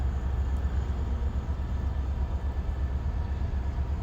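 Norfolk Southern train rolling past at Chattanooga, Tennessee, a steady low rumble that holds for the whole stretch with no break or pause.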